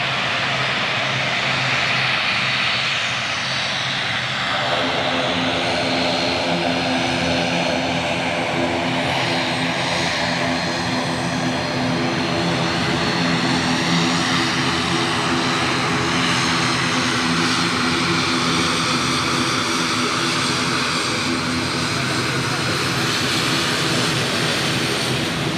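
Propeller aircraft arriving at Zurich on a seasonal flight from Guernsey, a loud, close droning engine with a pulsing low hum and a sweeping pitch shift as it passes, continuous and without talk.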